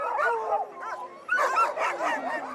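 Sled dogs gathered at the start of the Yukon Quest race in Whitehorse, Canada, yelp, whine and yip in excited overlapping bursts, loud and close, with no talk.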